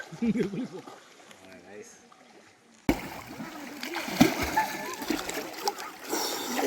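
People splash and slosh in a deep pool beneath a waterfall, water churning close by in irregular bursts while voices talk and shout over the splashing.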